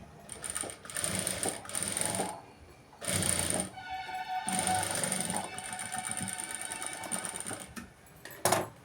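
A sewing machine stitches a blouse in rapid mechanical bursts, several runs of fast clattering needle strokes separated by short pauses, close and loud with no talk.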